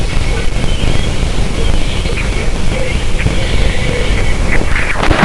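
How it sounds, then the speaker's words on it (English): Radio emissions from Jupiter's moon Ganymede recorded by the Galileo spacecraft: a dense, steady wash of crackling hiss and rumble with faint wavering tones drifting through, like eerie radio static, continuous for a few seconds. "beware the weird radio emissions the Galileo spacecraft picked up from Jupiter's largest moon,"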